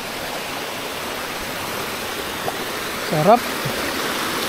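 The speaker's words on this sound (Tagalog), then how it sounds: "Ito na siguro yung sinasabi nilang mini falls." A small waterfall on farm land flows as a steady broadband rush throughout, with a person briefly speaking over it near the end.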